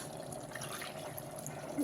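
Water is poured into a pot of rice for mushroom white biryani, a soft, quiet steady trickling and filling sound with no talk.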